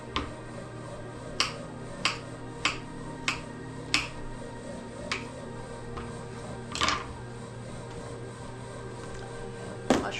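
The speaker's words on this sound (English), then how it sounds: "The noise is my bread machine working." In a home kitchen, a bread machine runs with a continuous low droning hum, and a series of crisp knife-on-board chops cut through it at uneven intervals.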